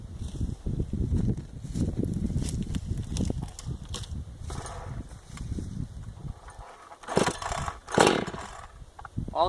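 A freshly rebuilt Husqvarna 372XP chainsaw runs close by with a raw, buzzing engine note and a few sharp throttle revs toward the end.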